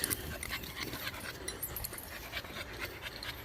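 A dog pants quickly and rhythmically at close range, fairly quiet, with brief whimpers between breaths and no talk.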